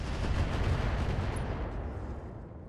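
Heavy mech weapons fire in the RogueTech battle game, a dense, loud rumbling barrage of booming shots that gradually eases off with no voices.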